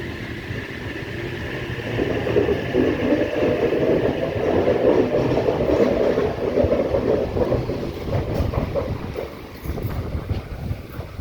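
A passenger train rumbles past at Scarborough station, New South Wales, with a steady low roar, rising and then easing off, with wind buffeting the microphone.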